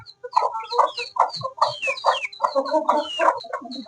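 Chickens on a rooster farm in Purulia district, West Bengal cluck busily and close by, a steady run of short overlapping calls and squawks with no talking.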